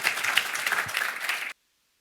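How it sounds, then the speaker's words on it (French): An audience applauds at a public meeting held in a museum on iron ore and rare earth mining; steady, dense clapping fills the room for about a second and a half, then cuts off abruptly into silence. "On l'applaudit"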